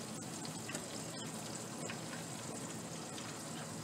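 Mullet frying in hot grease, a steady dense sizzle and crackle of oil that runs loud and unbroken throughout, with no voices over it.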